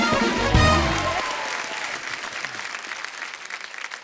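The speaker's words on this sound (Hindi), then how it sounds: "एक बार जोरदार तालियां" A TV show studio audience applauds loudly, the clapping swelling at first and then settling into steady, fading applause under a brief voice.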